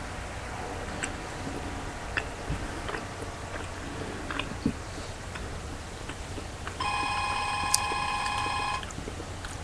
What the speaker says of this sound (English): And there's the landlady's phone.